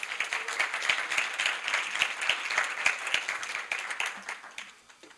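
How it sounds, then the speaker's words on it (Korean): Dense audience applause at a university business school event, many hands clapping steadily at moderate loudness before tapering off near the end, with no speech over it. "당신의 특별한 순간을 위한 DIY 칵테일 키트, 인조잉 라이언즈의 권재우 대표를 박수로 맞아주시기 바랍니다."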